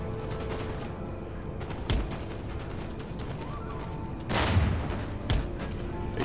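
Musket volleys in an Empire: Total War battle, a dense, steady crackle of distant fire with a few louder bursts standing out, alone without talk.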